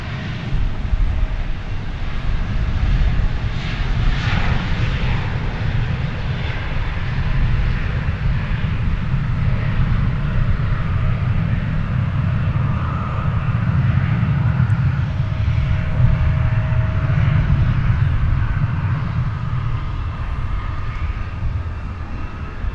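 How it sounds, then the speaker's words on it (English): America West airliner at DFW rolling for takeoff, its engines a steady, loud broadband roar with low rumble holding throughout, no voices. "The America West livery is rolling now."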